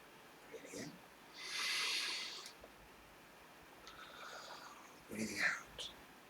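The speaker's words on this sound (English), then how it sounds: "Breathing in." A slow, deep yoga inhale rises as a soft, airy rush in a quiet room. Lighter breaths and faint murmurs come before it and after it.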